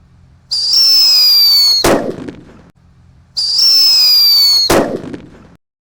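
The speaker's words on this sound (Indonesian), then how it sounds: "Ini guys yang lebih menggelegar ya, namanya Blackbuster" Two Blackbuster firecrackers go off one after another, each with a rising whistling fizz for over a second and then a sharp loud bang that rumbles away, loud and close.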